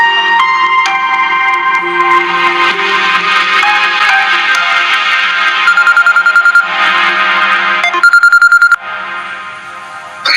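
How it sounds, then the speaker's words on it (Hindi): A phone ring tone repeats steadily and loudly on a call line, ending in a few short electronic beeps, with no talking. "तुम इशरत आंटी को कॉल करो,"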